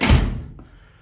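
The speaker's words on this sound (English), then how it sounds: "Let me get this door closed." A door shuts on a Datsun 260Z sports car with body damage, one solid close thunk that fades quickly, followed by a faint tick, with no talking.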